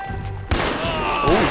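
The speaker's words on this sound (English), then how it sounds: "Oh, shooting." Gunfire in Red Dead Redemption 2, a sharp loud burst of shots followed by a ringing, echoing tail and a second shot near the end.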